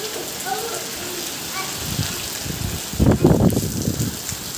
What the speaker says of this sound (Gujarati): આમ જો કરા પડે છે અત્યારે.